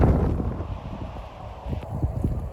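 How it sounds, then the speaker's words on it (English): Gusty wind rushing through outdoor Padron and cayenne chilli plants, a steady loud roar with rustling leaves and buffeting on the microphone throughout, no talk. "The wind really has picked up."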